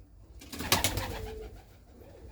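A racing pigeon gives a soft, throaty coo close by, a brief rolling call over quiet background.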